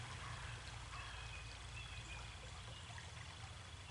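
A creek flows with a soft, constant wash and trickle of water, faint and unbroken, with no voices.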